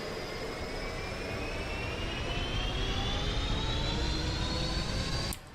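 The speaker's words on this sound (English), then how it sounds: "Engines stable." Simulated Boeing 777 jet engines spool up for takeoff on a runway in X-Plane 11, a loud steady roar with a slowly rising whine that cuts off abruptly near the end, with no talking.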